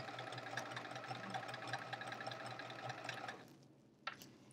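Sewing machine chain piecing quilt chevron pieces runs at a steady, close mechanical whir for about three seconds, then stops, leaving near quiet broken by a single small clack.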